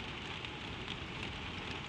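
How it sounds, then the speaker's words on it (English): Steady, dense patter of rain on a hard surface overhead, continuous and even with no pauses, at moderate loudness. "Let the rain fall on the roof."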